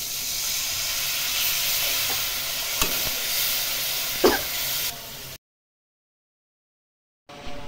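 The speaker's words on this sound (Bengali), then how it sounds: "এখানে পেঁয়াজটা ভাজা ভাজা হবে" Onions with turmeric, chilli powder and salt frying in a pan for fish curry, a close steady sizzle with a few stirring scrapes, cutting to silence before resuming briefly.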